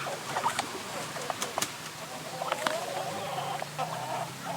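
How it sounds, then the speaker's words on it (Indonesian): Muscovy ducks eagerly eating feed nearby, with soft pecking, scattered clucks and brief sharp calls over steady rustling, some faint voices in the background. "ini kita kasih makan ya untuk mentok-mentoknya"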